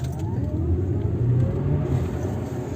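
A Harley-Davidson motorcycle pulls away from a complete stop, its engine giving a steady, loud low rumble that holds throughout with a slight rise as it accelerates.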